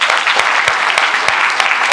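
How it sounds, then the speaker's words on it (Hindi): Audience applause, dense rapid clapping from a close crowd that holds steady for the full couple of seconds. "एक बार जोरदार ताली हो जाए।"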